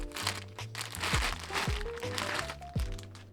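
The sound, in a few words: plastic bag crinkling while unboxing a saxophone case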